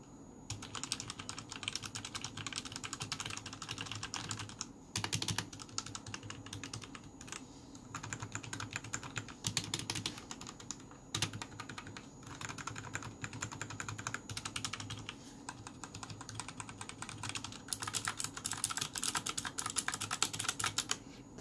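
Rapid, continuous clacking from typing on an RK61 mechanical keyboard fitted with Outemu switches, close and crisp, with brief pauses between bursts and no voices.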